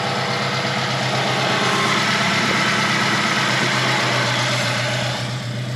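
A long-abandoned Honda Civic idles steadily after its first cold start, a close, continuous low engine drone with a smooth even hum throughout and no voices.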